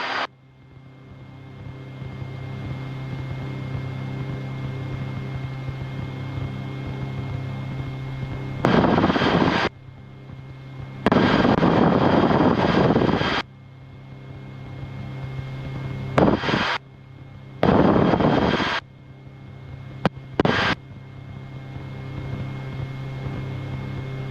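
A Rotorway helicopter's engine and rotor run loud and continuous through takeoff and flight, with recurring bursts of harsher broadband roar and no talking.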